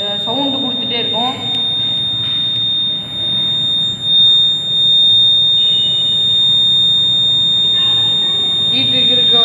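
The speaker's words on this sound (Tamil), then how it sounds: "ஹீட்டு இருக்க வரைக்கும் சவுண்டு கொடுத்துட்டே இருக்கும். இதுதான் ஃபயர் அலாரம்." A fire alarm gives a steady, piercing high-pitched tone that holds unbroken throughout, sounding continuously while someone talks over it nearby.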